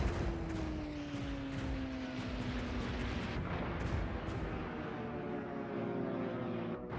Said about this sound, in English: Anti-aircraft guns will engage their planes.